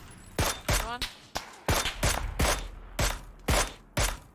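Gunfire in the battle royale game PUBG: about nine sharp, loud shots fired in an even, quick rhythm, each with a short echoing tail.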